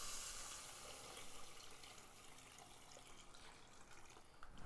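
Two and a half litres of water pouring into a soup pot for tortellini soup, a soft continuous splashing and gurgle, faint and steady without talk.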